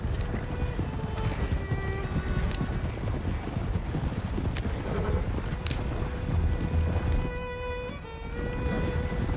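Horse hooves clip-clop steadily at a walking pace, fairly close, with outdoor ambience and faint movement around them.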